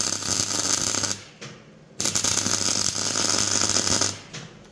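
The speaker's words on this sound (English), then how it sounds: "And weld that on there." Welding on a Harley Dyna Springer motorcycle chassis, a loud steady crackling buzz that cuts out briefly twice before resuming, close up.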